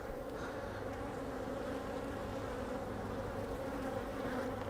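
Honeybees hum steadily at an open hive during a fall inspection of a strong colony, a continuous dense buzz that stays close and even throughout with no voices.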